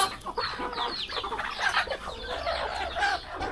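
Chickens on a rural village farm clucking and chattering, several birds calling in overlapping bursts at close to moderate distance over light outdoor background noise.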